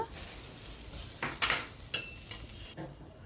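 Spices for a brinjal and prawn curry sizzle steadily in a pan with a soft frying hiss, and a spoon stirs them in a few scraping strokes.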